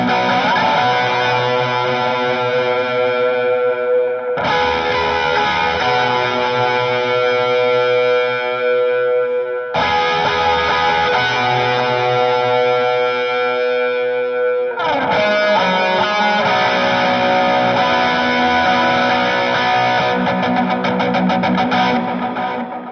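Electric guitar playing single notes in a worship-song bridge, run through a Line 6 Helix with distortion, chorus and echo; a steady, loud, sustained tone in four phrases separated by brief resets, no talking.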